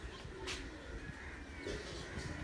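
Soft, low cooing of pigeons and their young close by in cold winter weather, a few gentle calls over faint background noise, with no clear talking.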